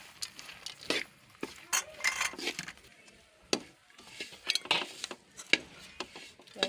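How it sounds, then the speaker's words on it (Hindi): Phool makhana and coconut flakes are stirred together in syrup in a pan, giving irregular scraping and clinking spoon strokes in uneven bursts with short pauses between them. "अब ये दोनों चीज़ों को अच्छी तरह मिक्स करेंगे।"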